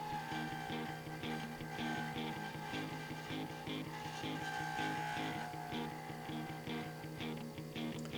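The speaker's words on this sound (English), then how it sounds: "Using the square carbide here, just to smooth everything out and bring it down." A square carbide tool smooths a spinning pen blank on a wood lathe, a steady, continuous scraping hum with a faint rhythmic flutter and no pauses.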